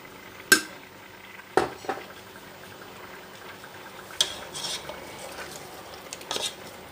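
Goat meat frying in about three tablespoons of oil in a pan, a low steady sizzle beneath several sharp clanks and scrapes of a stirring utensil against the metal, with no talking.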